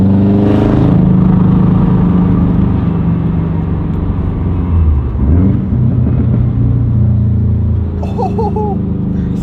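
A Subaru STI being dyno tuned roars loudly and continuously, its engine revving up and down in deep rumbling sweeps with a brief dip midway, close and unaccompanied by talk.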